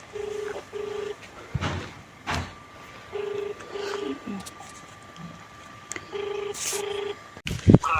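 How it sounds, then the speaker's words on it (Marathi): Telephone keypad dialing heard as repeated bursts of two or three steady beeps, separated by pauses, with faint outdoor noise and a few bird calls in the background. "फोन लावतोय आता"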